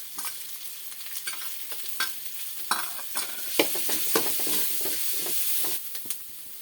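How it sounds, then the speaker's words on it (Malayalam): Garlic, ginger and green chillies sauté in a pan for a Kerala fish curry, giving a steady close sizzle with repeated scraping stir strokes throughout, no voices. "പിന്നെ ഇഞ്ചി, ഈ പച്ചമുളകിനെ നമുക്ക് ഇതിൻ്റെ കൂടെ തന്നെ ഇട്ടൊന്ന് വഴറ്റിയെടുക്കണം."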